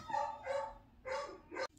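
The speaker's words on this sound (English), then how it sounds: "I had to go hang out with the dogs for a while because they were barking a ton" Dogs barking indoors at home, four close, loud barks in an uneven rhythm with no voices.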